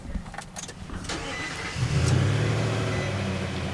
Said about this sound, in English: let's actually pop in and turn the truck on.